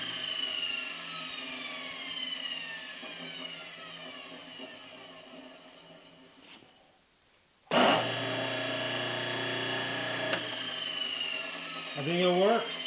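A restored Delta 10-inch table saw motor hums steadily at close range, cuts off into near silence, then restarts with a loud whirring surge that holds steady; a short vocal sound rises near the end.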